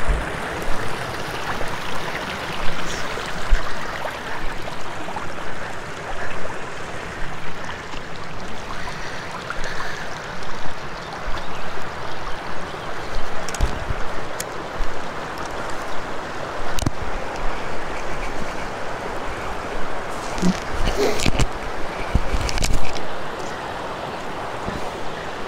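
A river at Otter Pool in Galloway Forest rushes over rocks, giving a broad, continuous close wash with a few faint knocks and bursts of wind noise, and no voices.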